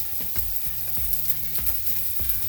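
Garlic browns in a hot frying pan for shrimp fettuccine Alfredo, sizzling continuously up close while a utensil scrapes and knocks against the pan in irregular strokes, no voices.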